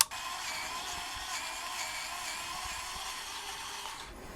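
A VEVOR electric precision screwdriver with a Torx bit runs in one continuous high motor whine for a few seconds, close and steady, then stops.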